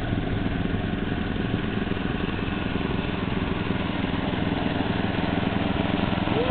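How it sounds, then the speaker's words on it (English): A tractor engine chugs steadily as it drives along in a parade, a constant mid-level motor drone heard from nearby with no talking over it. "And here we have Frank on his tractor."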